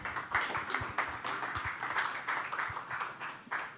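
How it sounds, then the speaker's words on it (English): Audience applause at a presentation event, a steady wash of many hands clapping close by for a few seconds, with some louder individual claps standing out in the room. "A round of applause for Tony, please."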